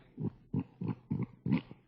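Five short grunting oinks in a regular series, low and close, each separated by a brief pause.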